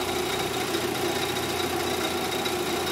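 A car engine idles with one battery terminal disconnected, a steady, even mechanical hum with a faint rattle that stays constant throughout, close by and free of talk.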